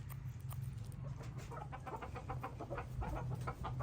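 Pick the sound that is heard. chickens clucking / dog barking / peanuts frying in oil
chickens clucking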